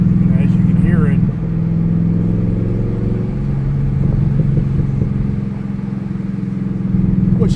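A Chevrolet Camaro Z28 track car's engine drones with a low, steady exhaust note while driving on an open road, shifting pitch a few times as it cruises, with someone talking over it.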